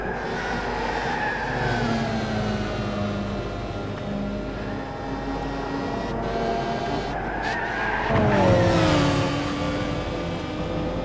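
GT300 race cars in a racing video game scream along the track in a close battle for first place, with engines droning steadily and then a surge of revving and tire noise toward the end.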